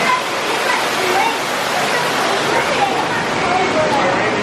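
An indoor-outdoor waterfall at the Texas State Aquarium in Corpus Christi pours and splashes in a continuous loud rush, with faint crowd voices mixed into the roar.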